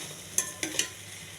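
Brown rice vegetable rice with masala stir-fried in a pan, a soft steady sizzle broken by three quick scrapes of a spoon, close and quiet with no talk.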